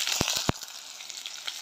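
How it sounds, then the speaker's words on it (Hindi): Finely chopped onion hits hot mustard oil in a kadhai seasoned with fenugreek and fennel, giving a few sharp pops up front, then settling into a steady close sizzle. "तो अब इसमें डाल देंगे बारीक कटा हुआ प्याज।"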